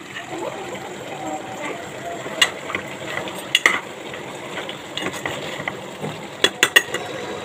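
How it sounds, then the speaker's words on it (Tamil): A spoon stirs crab masala gravy as it fries in a pan, with soft sizzling and scraping and occasional sharper clinks, while someone talks over it. "நல்லா கிண்டி விடணும், நண்டு வந்து உடையாத மாதிரி நம்ம கிண்டி விடணும்."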